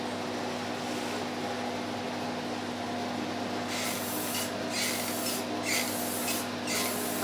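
An aerosol spray paint can lays light coats on a 1956 Western Auto Wizard Rol Aire fan under restoration, with short hissing bursts over a steady background hum in the second half.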